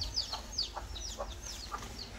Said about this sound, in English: This is a cockfight.